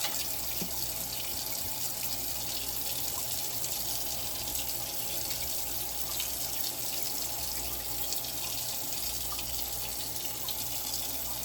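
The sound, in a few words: tap water rinsing dandelions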